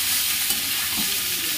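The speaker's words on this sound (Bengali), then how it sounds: "নুন দিয়ে একটু ভালো করে নাড়লাম" Vegetables sizzle steadily in a frying pan with salt added, a spoon stirring them in a close, continuous crackle for a short stretch while a chicken stew is made; no one speaks.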